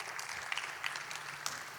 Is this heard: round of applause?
yes